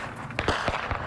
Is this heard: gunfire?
yes